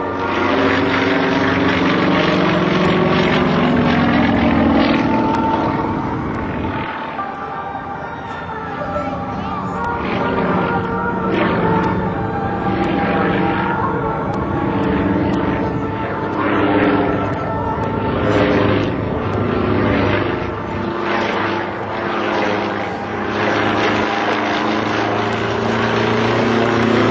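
A Sukhoi SU-26 aerobatic propeller plane performing at a military air show, its engine roaring loud and continuous with rising and falling pitch through maneuvers, under a public-address announcer's voice.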